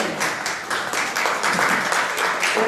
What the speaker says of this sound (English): The clapping never gets old.